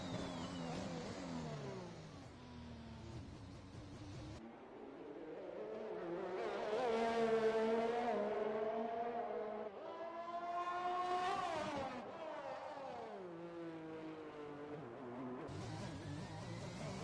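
Race cars on the Shanghai circuit brake from turn 13 into the hairpin, engines whining and sweeping down in pitch as they slow, with a steady wash of track noise behind.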